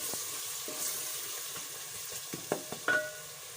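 Coriander powder, whole cumin and two cinnamon sticks being stirred in a hot pan, a low sizzle with a few sharp spoon clinks and scrapes near the end, close and without speech.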